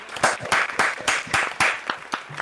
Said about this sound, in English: Everyone go ahead and give him a round of applause.